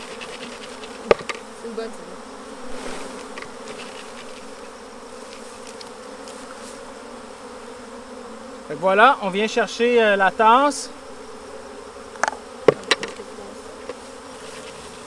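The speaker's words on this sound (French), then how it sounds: "Il me reste des abeilles ici à l'intérieur." Honey bees buzz close by inside a cup, with a steady hum throughout that swells into louder, agitated buzzing bursts midway; someone speaks French over the opening.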